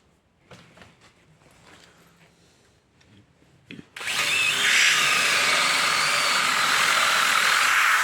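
A power drill bores through a flange during repair of a Hitachi belt sander, starting with faint handling clicks and then cutting in as a loud, steady, close whine that continues to the end.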